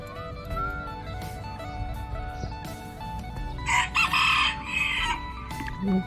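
A rooster crows loudly nearby in rice fields in Vientiane, one drawn-out call near the end, over a background of other birds chirping and faint clucking.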